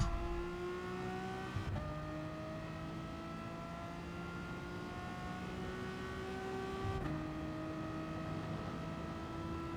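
A Bugatti Veyron in Gran Turismo Sport accelerating hard along a straight, a steady high engine drone rising in pitch through each gear, with two gear changes marked by sudden drops in pitch, clear and continuous.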